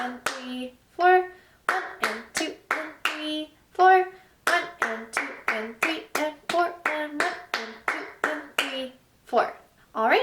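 Hands clap out a rhythm exercise in a flute lesson, crisp sharp claps in a steady counted pattern, alternating with spoken counting throughout.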